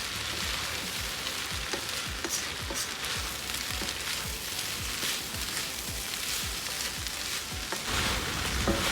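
Shrimp fried rice sizzling in a pan while being stirred with fried rice seasoning, a constant close crackle with soft repeated scraping strokes, moderately quiet, with no talking.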